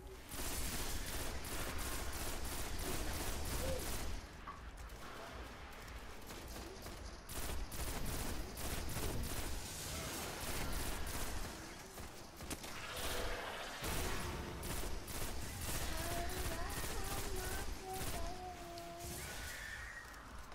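Gunfire from the video game Destiny comes in rapid, evenly spaced bursts of shots, stretches of sustained automatic fire separated by brief pauses, loud and close against a game soundscape.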